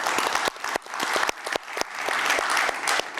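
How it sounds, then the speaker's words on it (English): A crowd at the AT&T Secure Connections 2024 conference applauds, dense clapping that rises and continues at close range with a few sharp individual claps standing out. "So let's give him a round of applause."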